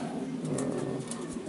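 Pigeons cooing in a breeder's loft of racing and breeding pigeons, a soft continuous low cooing at close range, steady throughout with no talk.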